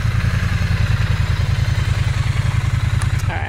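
A 2017 Triumph Bonneville with a liquid-cooled engine idles close by, a steady low throbbing pulse with a light mechanical clatter and a slight change near the end, no voices.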